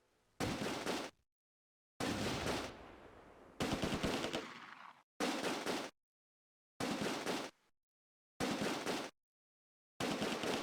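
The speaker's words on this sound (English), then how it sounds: "Another MG42 opens up on my left flank" Bursts of MG42 machine gun fire in a Close Combat World War II battle at Nijmegen, loud, with about seven separate sustained volleys of a second or so each, parted by brief silences.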